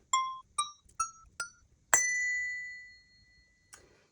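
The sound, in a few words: Montessori bell being struck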